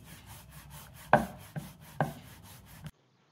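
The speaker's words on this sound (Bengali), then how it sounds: "যতটা সম্ভব পাতলা করে রুটিটাকে আমি বেলে নেব" Roti dough rolled thin with a rolling pin on a board, a few soft knocking thumps and rubbing strokes close by, about four distinct taps over a low steady background with no voices.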